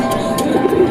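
A racing pigeon coos close by as it arrives at the loft, soft low throaty notes over a hum of background noise.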